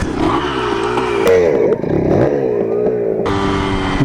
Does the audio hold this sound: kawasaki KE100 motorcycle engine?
yes